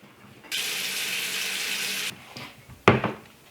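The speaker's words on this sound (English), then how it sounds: "I'm going to fill up enough water" Tap water gushes steadily into a casserole dish for about a second and a half, then stops, followed by a brief clatter and a splashy knock.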